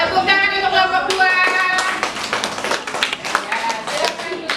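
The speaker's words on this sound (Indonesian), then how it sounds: "Tepuk tangan untuk kelompok 2" Classmates clap for group 2 in a classroom, sharp hand claps building after a brief tone, loud and close, with children's voices chattering over the clapping.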